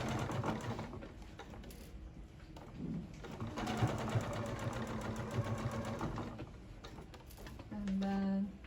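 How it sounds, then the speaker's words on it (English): A sewing machine stitching a seam over gathered fabric, with a back stitch: a close, steady mechanical whirring chatter with shifts in pace, ending in a louder sustained hum, with faint bird calls in the background. "So then I'll just sew my regulation seam, back stitch now."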